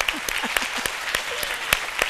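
Scattered handclaps from a small audience at a children's holiday program launch, with sharp claps spaced irregularly and voices murmuring faintly between them.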